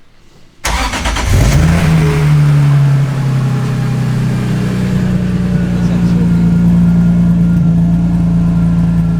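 A tuned BMW E46 335i engine fires up suddenly and settles into a loud, deep, steady idle with a throaty rumble, close by.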